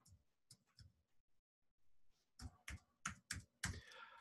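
Computer keyboard typing, a few soft scattered keystrokes, a short pause, then a louder run of crisp individual key taps close by, with no talking.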